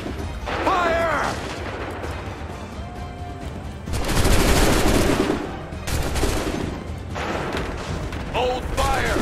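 Musket volleys and battlefield gunfire in Assassin's Creed 3, loud bursts of crackling shots that come in waves under shouted commands, with a dense roar of firing in the middle.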